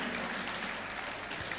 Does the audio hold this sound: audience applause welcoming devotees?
yes